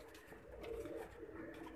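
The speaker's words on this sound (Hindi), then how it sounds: "बड़े बड़े कबूतर बाहर आ गए भजन खुडों से।" Pigeons cooing near their roost, a soft low burbling coo heard once or twice, faint and close with quiet background and no speech.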